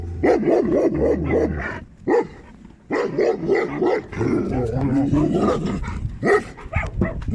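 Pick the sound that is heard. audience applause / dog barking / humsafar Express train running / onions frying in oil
dog barking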